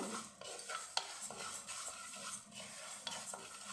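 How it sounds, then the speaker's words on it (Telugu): Moong dal dry-fries in a pan under repeated stirring, with scraping sweeps and light clinks of a spoon on the metal over a faint crackle, quiet and close. "పెసరపప్పు కొంచెం మంచిగా వేయించుకోవాలి"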